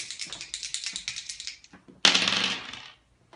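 Dice rattle and tumble inside a remote-controlled barbooth table, a quick series of sharp clicking bounces, a brief pause, then a second louder burst of clattering that settles to silence.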